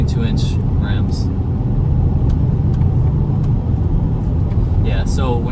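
A 2021 Audi RS6 Avant, a 5,000-pound wagon on 22-inch rims, driven hard, giving a loud, constant low engine and road rumble inside the cabin while someone talks over it.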